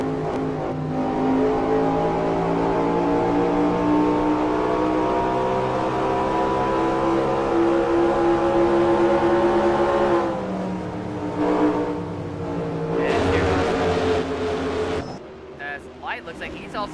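Race cars running on pit road in a Six Flags Cup Series race at Denver, a loud sustained engine drone with shifting pitch that thins out near the end.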